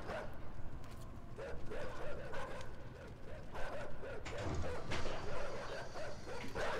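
Dogs in the side-scrolling video game INSIDE bark and yip in a busy, overlapping stream over rumbling game sounds, fairly close but moderately quiet, with no voices.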